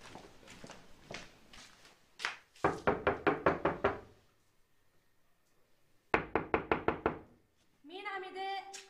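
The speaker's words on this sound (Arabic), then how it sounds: "مين عم يدق؟" Two bursts of rapid knuckle knocking on a door, about six quick raps each separated by a pause, loud and close, with people talking before the knocks and a voice following the second burst.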